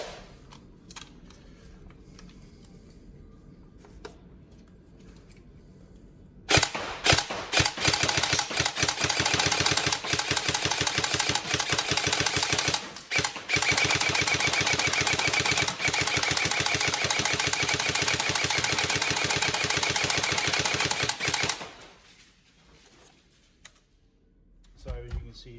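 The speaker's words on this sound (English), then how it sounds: "So you can see the trigger response for 450 FPS is fantastic." Upgraded Tokyo Marui SCAR-H DMR next-gen airsoft electric gun set to about 450 FPS, firing a long sustained burst of rapid mechanical cycling for roughly fifteen seconds, loud and close, with quieter ambience before and after.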